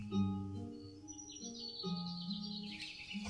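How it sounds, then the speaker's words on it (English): Birdsong ambience in a show's soundtrack, with a few faint chirps and tweets drifting over a soft musical bed. "it's been switching between ambient sound effects like chirping"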